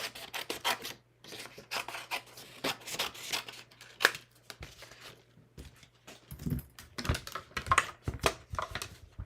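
Paper being cut out with scissors in a quiet craft session, a series of crisp snipping and rasping cuts in bursts with short pauses, close and fairly clear, with no one talking.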